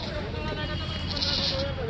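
A goat, a Barbari crossbreed at a livestock sale, bleats faintly in short wavering calls over steady crowd babble and outdoor noise.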